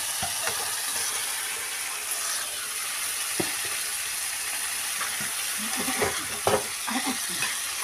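Fish added to a spice paste frying in a small wok gives a steady close sizzle and crackle of oil, broken by soft stirring knocks and clinks.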